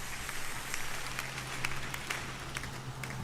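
A church congregation applauding at a French-language sermon, a steady dense wash of clapping from a crowd, sustained and even throughout.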